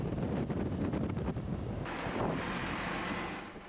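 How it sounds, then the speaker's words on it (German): Strong gusts buffet the microphone in Duba, a small harbour town on the Red Sea coast of Saudi Arabia, a continuous rough roar of wind with no voices. "Es ist extrem windig"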